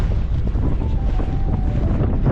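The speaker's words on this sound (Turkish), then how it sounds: "biraz rüzgarlı. Şöyle çevireyim kamerayı rüzgar almasın." Steady, heavy wind buffeting the microphone at a fishing spot by rising water, a low rumbling roar that fills the whole clip with no voices.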